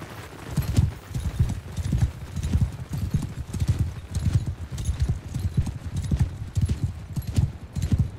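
Horses gallop in the Mount & Blade II Bannerlord video game, a steady, rhythmic thudding of hooves repeating evenly throughout, fairly close and unbroken, with no talk over it.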